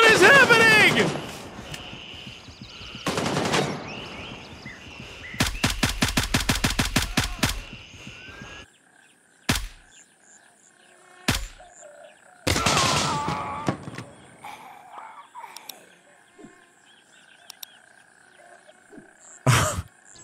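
Gunfire in the first-person shooter Gray Zone Warfare: a rapid burst of automatic fire, then scattered single sharp shots spaced across the clip, loud and close, with some vocal exclamations mixed in.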